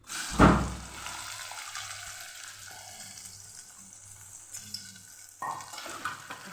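Cumin, whole spices, red chillies and asafoetida hit hot oil with a loud burst of sizzling, then settle into a steady crackling fry with occasional stirring scrapes.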